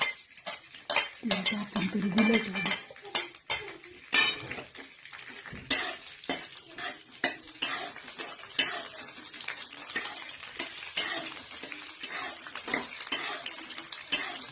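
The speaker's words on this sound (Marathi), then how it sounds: "आता हिरवी मिरची परतत आलेली आहे" Green chillies sauté in oil in a pan while a metal spatula scrapes and knocks against it in a busy, irregular rhythm of clatters over a faint sizzle, close and fairly loud, no voices.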